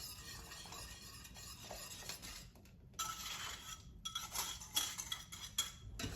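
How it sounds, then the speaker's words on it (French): Custard cream being whisked vigorously with hot milk in a pan, giving a steady run of scraping, clinking utensil-on-metal strokes at close range, with no voices over it. "Et là on mélange très vigoureusement. Surtout bien mélanger dans les coins"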